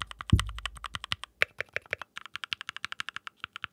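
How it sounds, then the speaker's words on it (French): Rapid, steady keystrokes on a custom mechanical keyboard with an epoxy and wood build, crisp and close, with a heavier thock early on. "Je me suis fait un petit clavier custom."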